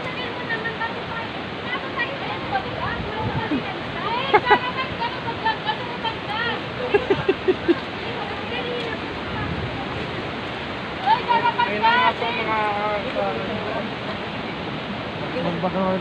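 Water rushes steadily at Wawa Dam, a loud broadband roar filling the scene throughout, with people chattering and calling out intermittently over it.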